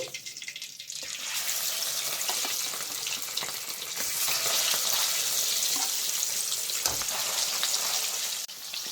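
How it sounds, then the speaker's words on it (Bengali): Steady, loud hissing sizzle of rohu fish frying in hot oil, a dense crackle that swells and continues without a break. "এই মাছটাও সেম আমি এরকম লাল করে ভেজে নেব।"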